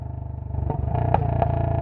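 A Royal Enfield motorcycle engine idles nearby with a loud, low, rhythmic thump that speeds up slightly as it revs, its quick pulses running steadily throughout.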